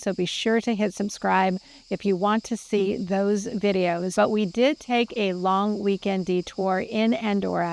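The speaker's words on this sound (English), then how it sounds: "You may hear the cicadas in the background." Cicadas in Provence in the south of France, a loud rhythmic buzzing chorus of rapid repeated pulses that carries on steadily under a person talking.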